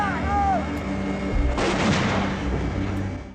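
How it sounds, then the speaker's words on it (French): American 180 mm Long Tom cannon fire rolls out as a heavy, distant artillery boom with a long rumbling tail over steady background noise and a faint whistling tone at the start. "Des Long Tom, canon de 180 mm de fabrication américaine"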